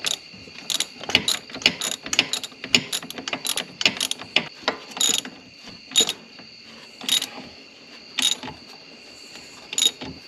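A ratchet wrench tightens a nut on the rear drive shaft of a Yamaha Grizzly 660 ATV, giving rapid bursts of sharp metallic clicks with short pauses between strokes, close and fairly loud.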